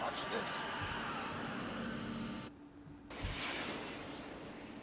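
In the Back to the Future video game, the DeLorean time machine roars away with a loud rushing whoosh that cuts off abruptly. A brief silence follows, then a burst and fading rumble.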